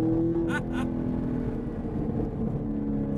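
A 2019 Chevrolet Camaro SS engine hums steadily at a near, moderate level, with a couple of short bright bursts early on and a smooth continuous drone after.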